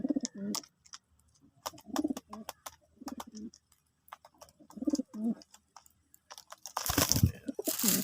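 Old pigeons coo in repeated soft, throaty bursts close by at feeding time, with a few short clicks between, ending in a loud rush of flapping wings.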